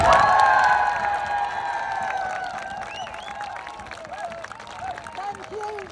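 A rally crowd cheers and applauds at a London women's rights event, a loud burst of clapping, whoops and shouts that gradually thins while a few voices call out over it.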